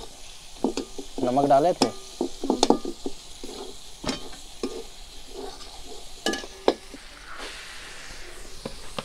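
Masala with turmeric and tomato being stirred and fried in a pan for a village dinner, with soft sizzling and scraping stirs in short bursts, close by, while people talk over it.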